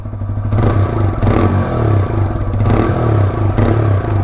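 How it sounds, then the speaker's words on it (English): A TVS Raider 125 motorcycle, a 2025 125cc commuter, rumbles with a deep, bassy exhaust note while riding, steady and close with periodic surges as the throttle opens, no voices over it. "It's kind of a bassy sound, right? Anyway, I love the way the exhaust sounds"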